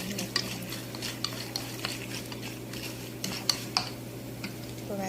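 Chana dal and peeled peanuts stirred as they roast in a pan for lemon rice: a steady low sizzle with light scraping and sharp clicks of a spoon against the pan at irregular intervals.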